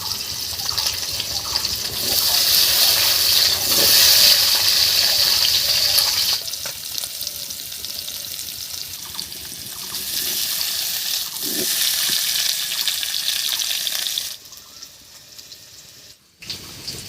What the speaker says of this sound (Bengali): এমনি কড়াইটা ঘুরিয়ে ঘুরিয়ে একটু ভেজে নেব